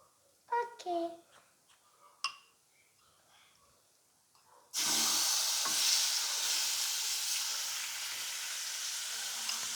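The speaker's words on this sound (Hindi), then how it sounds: "अब हम इसके अंदर चिकन को पका लेंगे।" Chicken hits hot oil in a pan and sets off a steady, fairly loud sizzle that holds to the end, after a few soft clinks and quiet voices at the start.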